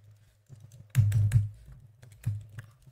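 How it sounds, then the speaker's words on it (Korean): Computer keyboard typing in a quiet room, a few scattered soft keystrokes followed by a louder cluster of clacking presses and then a couple more isolated taps, with no one speaking. "Shift 엔터 눌러서 일단 줄을 바꿀 거고요"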